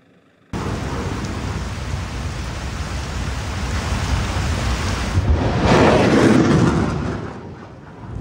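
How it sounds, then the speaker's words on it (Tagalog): A US Army HIMARS rocket launch in heavy rain: a loud, broad roar starts abruptly and holds steady, swelling louder toward the middle of the clip before easing off, over a dense wash of rain. "umalingaw-ngaw at gumuhit sa himpapawid ang pinaputok na rocket mula sa High Mobility Artillery Rocket System o HIMARS ng US Army"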